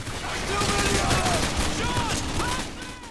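Dense gunfire aimed at helicopters in Modern Warfare 2 on Veteran difficulty, a steady loud fusillade with overlapping shots and battle noise running throughout, with voices and radio chatter faintly mixed in.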